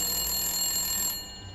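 A telephone rings in an animated children's show as a character calls in a report, a short electronic ringing tone with steady high pitched harmonics that cuts off abruptly after about a second.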